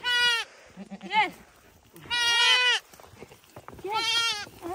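Goats on a mountain bleat several times in loud, wavering calls, spaced apart, with a person speaking between the cries.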